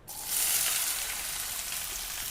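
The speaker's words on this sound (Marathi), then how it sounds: "2 कांदे चिरून घेतलेले आहेत बारीक, हे परतून घेऊ" Two finely chopped onions go into hot oil and sauté with a sudden, steady sizzle that swells quickly and then holds, close and loud, with no talk over it.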